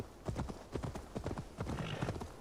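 Horse hooves clip-clopping in Assassin's Creed Valhalla, a steady rapid run of hoofbeats on the ground, close and fairly loud, with a brief whinny-like tone near the end.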